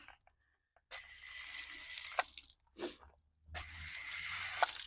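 A hose sprays water while washing a showjumping horse, two sustained hissing bursts separated by short gaps and a brief splash, close and fairly quiet, with no talking.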